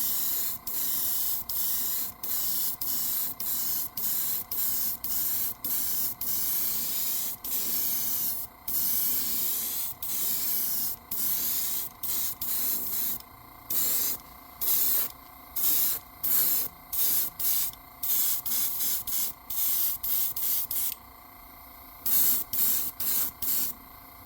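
An airbrush sprays paint coats onto a 7-inch swimbait fishing lure in short, repeated hissing bursts separated by brief pauses, close and fairly loud throughout.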